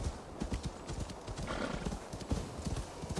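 Horse hooves clip-clop in a fast, even galloping rhythm in the video game Assassin's Creed Valhalla, close and fairly loud, with a brief whinny partway through.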